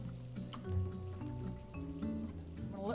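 Steady frying sizzle of saganaki cheese in a hot olive-oiled pan, close and continuous, with a few faint crackles and pops.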